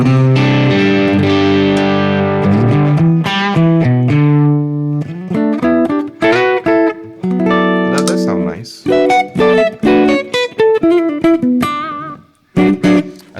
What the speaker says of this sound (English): I don't like that reverb particularly.